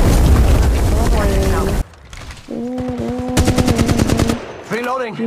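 Rapid automatic gunfire from a shooter in Apex Legends Mobile, played at 60 fps, with loud bursts of shots mixed with game voice lines and tonal effects, cutting out briefly before a fresh volley.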